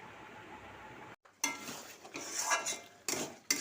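Pots and dishes clink and scrape in a home kitchen while leftover khichuri is reheated, sparse quiet metallic knocks and clatters at close range with a short silent gap near the start.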